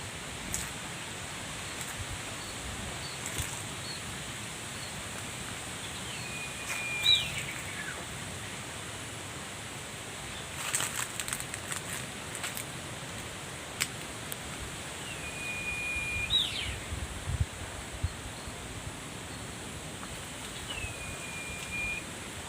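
A jempling, a wild bird in a rural Sundanese village in West Java, gives three brief, high whistled calls spaced several seconds apart. The calls sound moderately distant over a constant soft rustling outdoor background.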